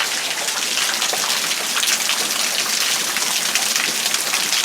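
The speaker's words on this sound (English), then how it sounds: "it's raining and the sun's shining" Steady rain falls nearby, a bright, even hiss of drops striking surfaces with no voices or breaks.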